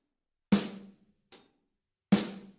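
Three separate drum hits in a basic back beat, with two loud, ringing snare-like strikes and one shorter, brighter hit between them, played alone in a dry room.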